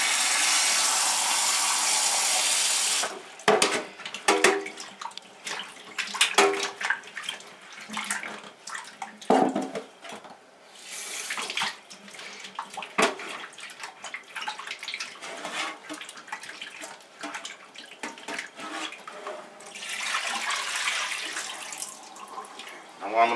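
Peeled yam is rinsed under a running kitchen tap: a strong gush of water at the start, then intermittent splashing, clunks and knocks of the pieces being handled, with the flow surging again near the end.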